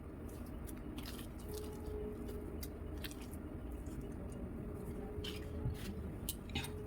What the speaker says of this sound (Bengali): এবার এটা ভালো করে মাখিয়ে নিতে হবে।